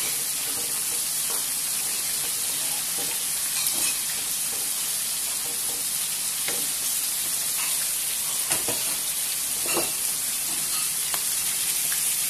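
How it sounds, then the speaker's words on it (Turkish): Chopped peppers, onion and garlic sizzle in hot oil in a pan, a constant close crackle with occasional louder pops and stirring scrapes. "Şimdi biber, soğan, sarımsak döküyorum içine. Bunları da kavuracağız güzelce."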